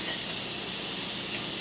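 Onions frying in a little oil in a skillet make a dense, steady hiss and sizzle, close and constant across a short stretch.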